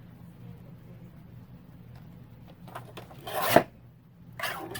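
Paper for a student planner pocket being trimmed, with a brief rasping cut that swells near the end over a quiet background, then a short scrape after it.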